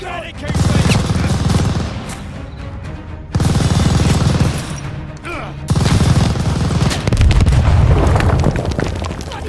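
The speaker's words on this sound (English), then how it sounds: "Enemy machine gun!" Machine gun fire and booming blasts in the Call of Duty: Vanguard battlefield, loud and dense, coming in three long sustained bursts separated by short breaks, with faint voices mixed in.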